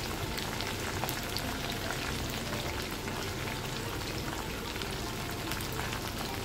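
Soybean chunks frying crisp in hot oil, a dense, steady crackle and sizzle that holds evenly close by throughout, with no talking.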